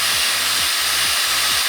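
An electric drill runs steadily in a garage while paper gasket residue is cleared, a loud continuous whine with a rhythmic pulsing grind repeating roughly every half second.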